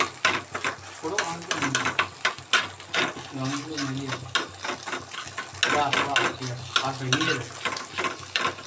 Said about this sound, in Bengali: এর মধ্যেই এখন ডিম ভাজা